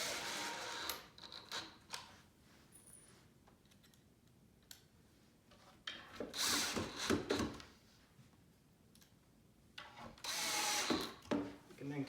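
A power drill tightens screws into a farmhouse shoe bench in several short whirring bursts separated by quieter handling and shuffling noises, fairly close.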